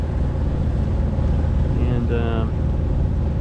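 A sailboat's engine drones steadily while motoring against the current with the headsail out, a continuous low rumble under wind, with a voice speaking briefly over it.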